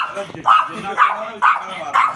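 A large dog at a tractor spare-parts market in Patiala gives a run of four evenly spaced barks, close and fairly loud, with a little background noise between them.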